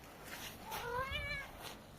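A single faint, wavering meow from a cat outdoors in the snow, rising then falling, over a soft steady background hiss.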